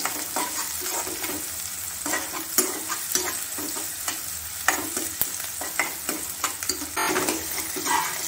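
Onion, ginger, garlic, coconut and tomato sizzle in hot oil for an Andhra-style paneer curry, with a spoon stirring and scraping the pan in repeated strokes under a constant loud fry.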